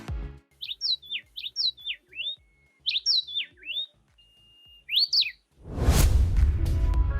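A small insect-eating passerine gives sharp, high chirps in quick clusters separated by brief pauses, close and clear, and a soft whooshing rush of air follows at the end.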